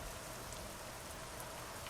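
Steady rainfall in American Truck Simulator, a continuous even hiss of drops on the truck with no pauses, fairly soft and uniform throughout.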